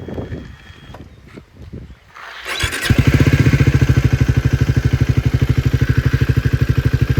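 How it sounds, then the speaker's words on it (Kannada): A new, not-yet-broken-in Triumph Speed 400 motorcycle clatters briefly, then its exhaust settles into a loud, close, evenly pulsing thump at idle, with no voices over it. "ಸೊ ಇದು ಇದರ ಎಕ್ಸಾಸ್ಟ್ ಸೌಂಡು"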